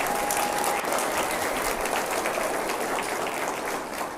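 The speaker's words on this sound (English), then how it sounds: "Let's give her an incredible round of applause." University audience giving a sustained round of applause for President Miana at a State of the University address, a thick, even wash of many hands clapping that holds steady and fades slightly at the end.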